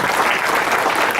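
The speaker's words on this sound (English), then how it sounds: "Let's give them a big round of applause." An audience claps steadily in dense, loud applause at an indoor gathering honoring mini-grant committee members, sustained without a break.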